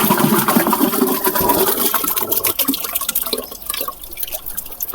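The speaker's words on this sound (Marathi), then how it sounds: "हे 10 किलो जे आपण ताजं गाईचं शेणखत घेतलेलं आहे हे पूर्णपणे या ड्रममध्ये आपल्याला टाकून द्यायचं" Fresh cow dung, about 10 kilograms, is dumped into a drum with a continuous wet, sloshing pour that gradually thins out, heard up close and without talk.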